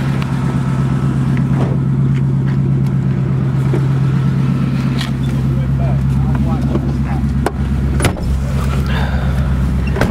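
A 1953 Mercury custom car with a flathead V8 rumbles steadily at low pitch while driving, heard from inside with people talking over the engine throughout.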